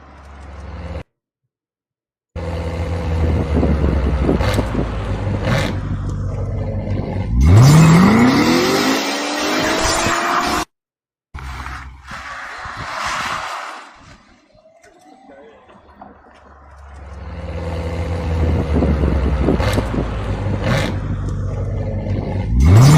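A Tesla Roadster 2.0 fitted with artificial engine noise revs hard, rising and falling in loud swelling sweeps with a brief tire squeal, broken by pauses and quieter stretches.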